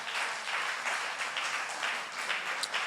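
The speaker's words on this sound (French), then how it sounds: "un tonnerre d'applaudissements pour Dali Cardinal" A crowd in Kinshasa applauds a stand-up comedian taking the stage, moderate steady clapping heard from a little distance throughout.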